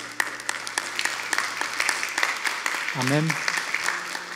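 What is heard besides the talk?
congregation applauding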